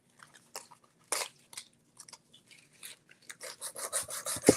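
Wood edge being sanded by hand while building a painting display, short irregular rasping strokes that grow quicker and louder toward the end, close up and with no talking.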